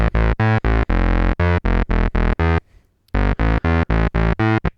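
A loud, distorted sequence of rapid repeated notes on a Korg Monologue synthesizer, with one longer held note of two tied Fs, a brief gap, then the pattern resumes.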